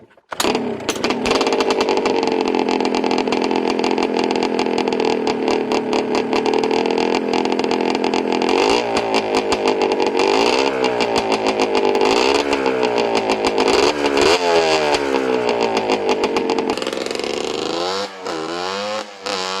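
A Yamaha Blaster 200cc ATV engine runs loud and close, holding a steady buzzing drone before revving up and down in repeated rising and falling surges, then easing off near the end.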